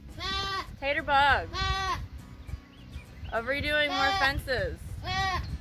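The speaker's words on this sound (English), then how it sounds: "And you can hear the goats in the background." Several goats on a farm bleat repeatedly in wavering calls, loud and fairly close, with some overlapping. A person talks at the same time.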